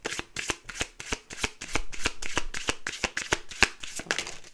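A deck of tarot cards is shuffled in quick, even riffles, about a dozen crisp fluttering snaps in a row, close and clear with no talk.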